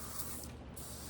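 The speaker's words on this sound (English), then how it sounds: "It's very important to spray your burlap before you get started" Febreze sprayed onto burlap fabric gives a close, steady hiss that runs unbroken for about a second.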